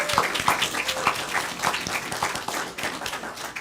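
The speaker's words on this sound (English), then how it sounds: "And would everybody give an applause?" A church fellowship congregation applauds, a moderately loud wash of many hands clapping steadily for a few seconds.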